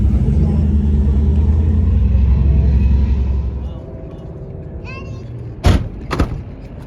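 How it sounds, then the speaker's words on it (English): A Ford Mustang door with new weather stripping is shut after a loud idling engine rumble fades, giving two close, heavy thumps near the end. "You see what I mean about the doors? Yeah, because this weather stripping's all new."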